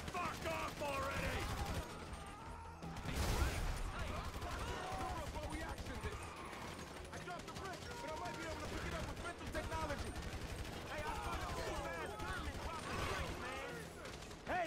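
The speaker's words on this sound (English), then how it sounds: "Shooting our way out of here." Rapid gunfire crackles through a shootout in Grand Theft Auto V, with dense bursts of automatic shots and mechanical clatter throughout, under shouting voices and a loud impact around the middle.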